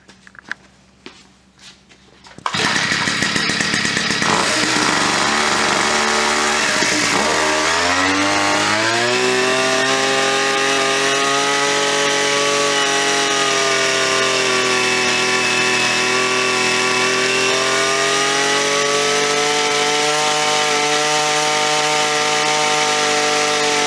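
Small gas engine of an UberScoot 2x two-speed scooter starts after a few brief rattling pulls, then runs loud and close with a raspy two-stroke buzz, revving up and settling into a steady high whine as it is adjusted.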